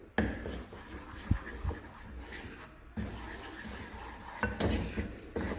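A spoon scrapes and knocks against a pot while a honey mixture is stirred on the stove, giving soft irregular clinks and scraping strokes with a couple of sharper taps, close and quiet.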